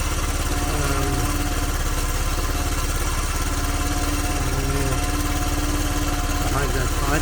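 A small engine idles steadily after a carburettor repair, a loud, even mechanical chug close to the microphone, with faint talking over it.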